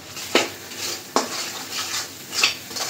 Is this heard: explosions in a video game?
no